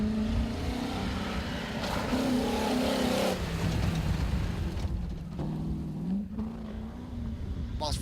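A Class 6 rally car runs a stage at Walters Arena in the 2019 AWDC opening round, its engine droning and revving steadily with gear changes, loud and continuous through the whole stretch while a commentator talks over it.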